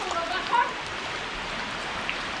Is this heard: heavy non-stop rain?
yes